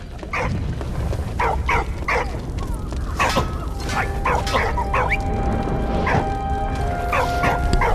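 A dog in Valiant Hearts: The Great War barks and yelps repeatedly in short uneven bursts with whimpers between, over a steady noisy background rumble.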